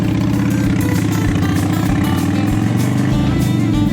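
A custom cafe motorcycle's engine runs steadily and loud at close range, its low, throbbing exhaust pulsing evenly as the rider pulls away, with no talk over it.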